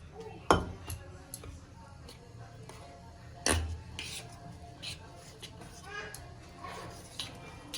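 Spice paste of ginger, garlic, cumin and coriander being mixed into a batter in a bowl, heard as scattered clinks and scrapes of a utensil against the dish, with two sharper knocks, under quiet talk.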